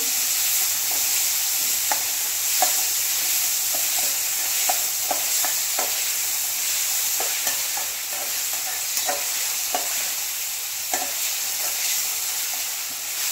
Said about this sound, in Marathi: हाय फ्लेमवरती कांदा इथे भाजायला चालू आहे